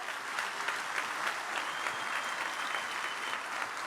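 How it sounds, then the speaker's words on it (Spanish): Congregation applause during a Sunday church service, a steady, fairly distant wash of many hands clapping that continues evenly through the few seconds without pause. "Denle un aplauso al Rey bendito."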